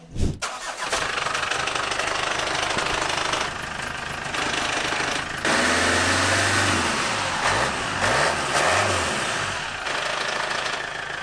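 Truck engine revving high in second gear while the clutch slips, a loud sustained mechanical roar with shifting low tones and rough rattling, wavering in pitch throughout.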